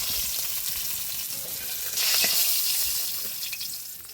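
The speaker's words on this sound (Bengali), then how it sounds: "ঝাল তরকারির জন্য আমুদি মাছগুলো ভেজে নিব।" Amudi fish frying in oil over an open fire, a continuous loud sizzle and crackle up close, swelling briefly in the middle and settling back, with occasional sharper pops.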